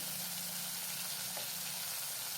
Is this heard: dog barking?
no